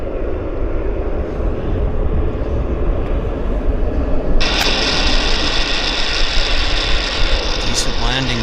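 A Central Mountain Air airliner landing long at Vancouver airport, its engine roar steady and broadband throughout, growing brighter and hissier partway through as the aircraft passes closer, with faint talk underneath.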